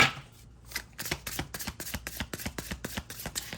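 Rapid, rhythmic riffling and soft slaps of tarot cards being shuffled close by, a quick even series of crisp bursts after a brief quiet start.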